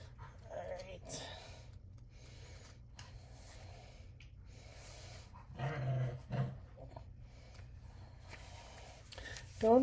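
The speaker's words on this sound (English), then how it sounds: "The dog's having a good time back there" A dog plays and growls off in the background, giving soft panting and short gruff growls under a low steady hum with occasional muffled movement.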